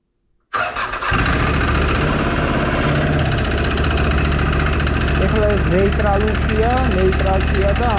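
An ODES 650 Pathcross side-by-side with an upgraded CVT variator starts up and settles into a steady, loud idle in neutral close by. Its low, continuous rumble runs throughout, and voices talk over it in the second half.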